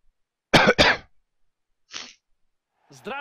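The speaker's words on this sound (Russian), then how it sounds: "Прости за кашель." Two sharp, close coughs in quick succession from a person with a cold and blocked nose, followed by a fainter cough-like burst and a brief breathy sound.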